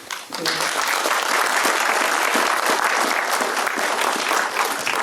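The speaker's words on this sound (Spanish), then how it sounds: "Recibamos con fuerte aplauso a esta noche." Loud, dense applause from an audience at a book presentation for a work on sacred Andean plants, sustained clapping that swells quickly and holds steady to the end.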